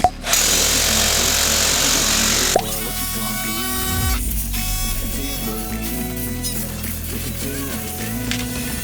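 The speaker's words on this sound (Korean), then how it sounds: "포크레인의 앞부분에 있는 브레이커를 달아주고 작업을 진행해 주었습니다." An excavator-mounted hydraulic breaker demolishes a 30-year-old rural detached house, giving loud, continuous rapid pounding at first, then rougher hammering and mechanical clatter close by.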